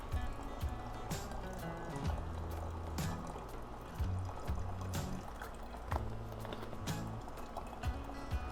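Water trickles and drips through a Katadyn BeFree filter at a slow flow rate. Irregular splashes and gurgles land close by in a steady, uneven stream, with no speech.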